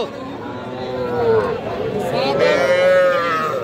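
A young calf at a cattle market lets out a long, close, loud moo that rises and stretches over several seconds, with murmuring voices and market chatter in the background.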